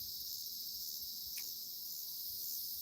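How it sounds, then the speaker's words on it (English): A dense, continuous chorus of insects drones steadily outdoors at night by a catfishing spot on still, windless water, loud and unbroken throughout. "the bugs, I can tell you the bugs out here are really bad because the wind stopped"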